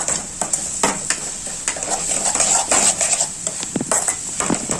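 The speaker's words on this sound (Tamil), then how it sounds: "நல்லா எண்ணெயில் வதக்கணும்" Sambar ingredients, including green chilies, are sautéed in oil in a pan with sizzling and repeated metal scraping and clinking of a spoon against the pan, close and busy throughout.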